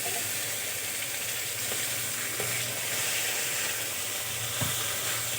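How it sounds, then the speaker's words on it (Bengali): A tomato, green chilli and ginger paste is sautéed in a hot pan, giving a loud, steady close sizzle and hiss with occasional soft stirring scrapes. "মিশিয়ে আরও ভালো করে আমি কষিয়ে নেব"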